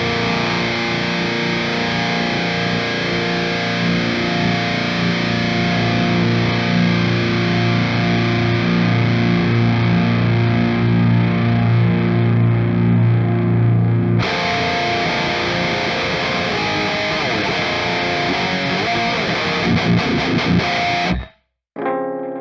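A heavily distorted electric guitar through the Clairvoyant amp plugin sustains a thick, buzzing chord, then shifts to a new ringing chord with delay and reverb echoes before cutting off abruptly.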